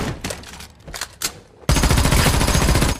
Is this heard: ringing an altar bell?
no